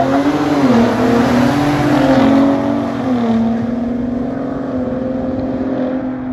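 Ford Bronco Raptor and F150 Raptor accelerating hard, a loud close engine roar rising in pitch, dipping once at a shift, then settling into a steadier drone as the sound slowly fades.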